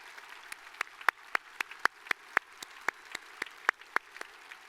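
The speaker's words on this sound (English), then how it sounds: "let's please give these folks a big round of applause" Sparse, sharp handclaps from a small group applauding the staff at an Ida B. Wells High School graduation ceremony. The individual claps come in an uneven rhythm of about a dozen and a half over a quiet room.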